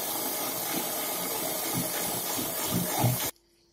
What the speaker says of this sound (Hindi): आम के पल्प में उनको जार में डालेंगे और ग्राइंड करेंगे